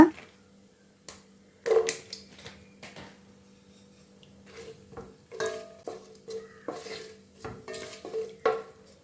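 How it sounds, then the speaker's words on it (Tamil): Cashews roast in ghee in a pan for mushroom biryani. A spoon clinks and scrapes against the pan in irregular close strokes over a faint sizzle and a low steady hum. "முந்திரி வந்து நல்லா நெய்யில் வறுத்து விட்டுக்கலாங்க"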